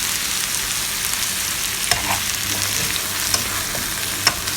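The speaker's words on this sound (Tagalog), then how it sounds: "haluin lang po natin ang haluin" Boiled chicken feet frying and being stirred in a pan, giving a steady broadband sizzle with a few sharp scrapes and clicks of the utensil scattered through, no voices.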